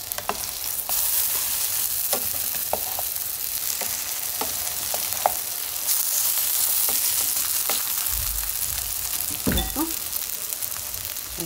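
Korean jeon (pancake) frying in oil in a pan, a continuous loud sizzle with scattered crackles and a thump partway through as the pancake is flipped.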